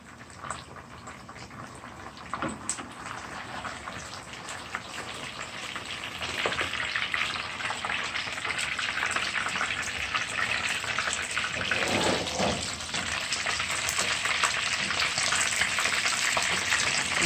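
Tilapia fish frying in a pan on the stove, a continuous close crackling sizzle that grows louder and denser partway through, with a few utensil knocks and bubbling hiss.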